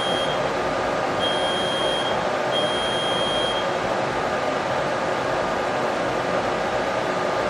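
A laser cutter at the FabLab Munich gives a few steady, high electronic beeps, each lasting about a second, over a constant loud fan and extraction hum while it connects to its software.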